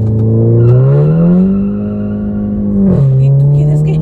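Drag racing car engine in a video game revving hard at full throttle, a loud sustained rising roar that holds, dips briefly and surges again over about four seconds.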